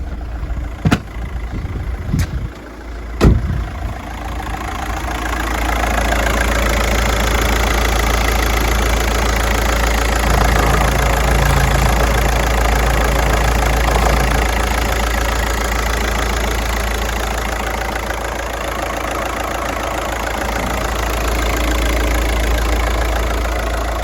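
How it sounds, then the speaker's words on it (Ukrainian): A 2009 Volkswagen Golf's 1.9 TDI diesel idles under the open hood, with a close, steady low rumble and faint knocking clatter after a few sharp clicks at the start. "Двигун працює рівненько."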